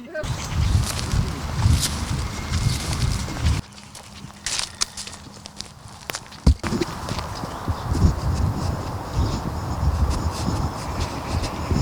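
Horses walking on open rough ground during a riding therapy session for a wounded soldier, their hooves clip-clopping steadily and close by, with a brief quieter break midway.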